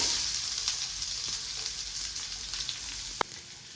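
Onion frying in a hot pan already seasoned with cumin and jakhiya, giving a steady, close hiss of sizzling oil with a few soft stirring knocks and one sharp clink near the end.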